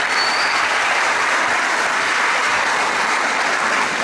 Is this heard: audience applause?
yes